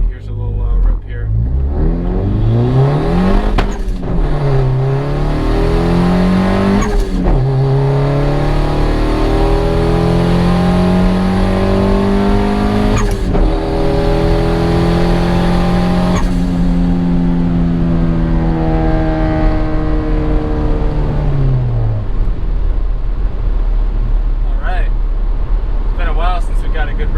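Turbocharged Honda Accord pulling hard: a loud engine climbs steeply in pitch through several gears, each rising howl dropping at the shift, with a sustained roaring run near the end before it eases off.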